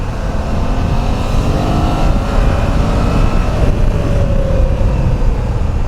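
BMW F900 GS motorcycle with a stock Akrapovic exhaust riding through a braking test, its engine and wind noise steady and loud throughout with a slight pitch drop toward the end, no talk.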